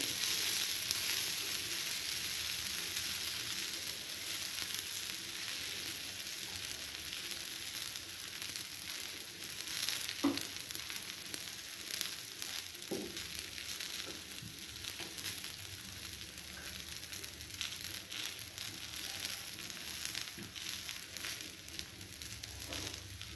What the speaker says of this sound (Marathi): आणि कढीने असे तेल सोडायचे आपल्याला, छिद्रांमध्ये सोडायचे.